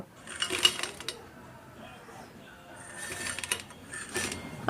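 Crispy homemade french fries crunched close up in a few crisp bursts, separated by quiet pauses and a faint background murmur.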